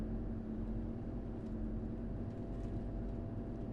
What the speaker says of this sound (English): Very quiet engine.